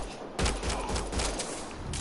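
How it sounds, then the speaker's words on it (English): Gunfire in the sci-fi shooter Mass Effect Andromeda comes as a dense, rapid volley of shots, steady and fairly loud for two seconds. "They shot him!"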